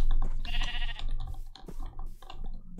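Minecraft Java Edition sheep bleat repeatedly at night, a wavering nasal cry rising above steady low game ambience, fairly close and loud across the short stretch.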